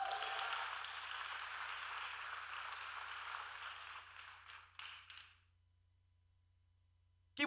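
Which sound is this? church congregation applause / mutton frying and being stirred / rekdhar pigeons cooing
church congregation applause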